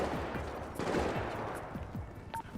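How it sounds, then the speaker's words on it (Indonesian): Police warning shots in GTA V roleplay: a string of rapid gunshot cracks that come in quick bursts over a constant game background, moderately loud and slightly distant. "Tembakan peringatan dari polisi kata dia"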